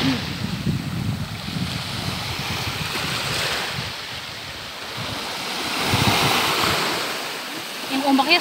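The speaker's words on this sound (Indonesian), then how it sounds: "Yang ombaknya sudah besar guys di sini" Ocean surf rolls and breaks on a beach at Baluran in a continuous broad wash, loud and close, with wind buffeting the microphone and swelling toward the end.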